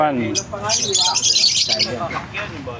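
Lovebirds, including Lutino and orange-faced types, squawk and chirp in shrill bursts at a busy outdoor pet market, loud and close with human voices mixed in.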